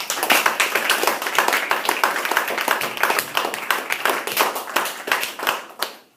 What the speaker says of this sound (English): So let's give a round of applause to all the students who participated and came up with great ideas.